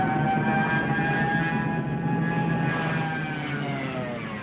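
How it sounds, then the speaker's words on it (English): Wailing siren of a Junkers dive bomber during its attack dive, a loud sustained rising-and-falling tone over a heavy engine roar, continuous and close throughout with no voices. "There's also this terrifying siren noise."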